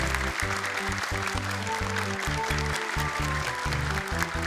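Studio audience applause for young Quran memorizers on an Indonesian televised hafiz competition, a steady dense patter under strong, sustained low musical tones that partly mask it, lasting throughout.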